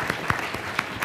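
Scattered audience applause with a few sharper claps standing out, moderately loud and brief in a conference hall, no talk over it.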